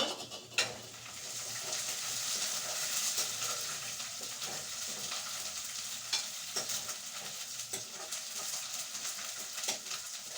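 Whole spices such as green cardamom, cloves, black peppercorns and star anise frying in oil in a pot, a steady close sizzle with occasional stirring clinks and scrapes throughout.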